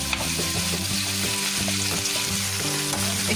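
Mushrooms sizzle steadily in hot oil seasoned with cinnamon, cloves and black pepper, a dense continuous fry layered with a regular scraping stir rhythm, close and fairly loud with no voices.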